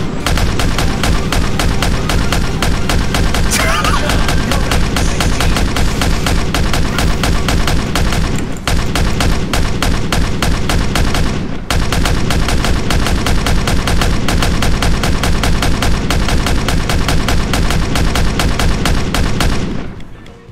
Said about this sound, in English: listen out for how many gunshots there were